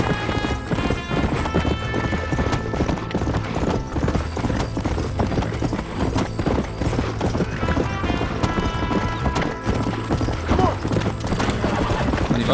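Horse hooves clip-clop steadily in the Red Dead Redemption video game as a warhorse trots, a fast continuous rhythm under game ambience with an occasional whinny.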